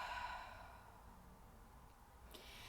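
A person breathing out slowly through the mouth during a guided breathing exercise, a soft quiet exhale fading over a couple of seconds, close and alone.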